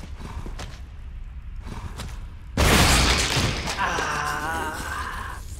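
A grenade detonates in Resident Evil HD with a sudden, loud, close blast that rolls into a sustained rumble and fades into lingering game noise.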